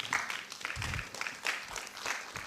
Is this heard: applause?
yes